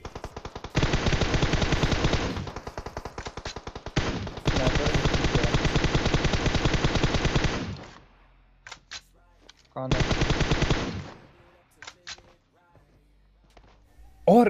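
Long sustained bursts of rapid automatic gunfire in a video game, aimed at a vehicle, pausing between volleys, followed by scattered single shots and short bursts, loud and close.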